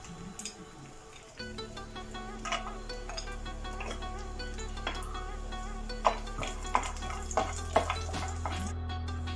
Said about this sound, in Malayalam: അതിലേക്ക് ആദ്യം ഈ അണ്ടിപ്പരിപ്പ് ഒന്ന് റോസ്റ്റ് ചെയ്യാനിട്ട് കൊടുക്കാം.